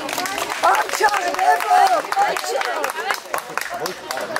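Scattered clapping from an audience at a Tbilisi kindergarten No. 98 graduation as children's names are called, with a voice speaking over the steady applause.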